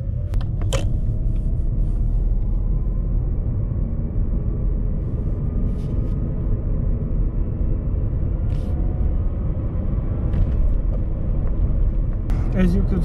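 A BMW E39 converted to full electric drive rolls along the road with a low, steady rumble of tyres and cabin noise and a faint motor whine, with a few brief clicks and knocks along the way.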